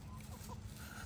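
A lavender Orpington hen clucks softly in a backyard chicken coop, a brief low murmur of fowl sounds heard at a distance, faint and steady.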